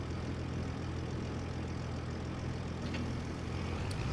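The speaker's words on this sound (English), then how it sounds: "I feel like they've added some better engine sounds on some of the equipments" Farm equipment engine in Farming Simulator 25 runs as a steady, continuous low rumble, a constant drone at moderate level throughout with no talk.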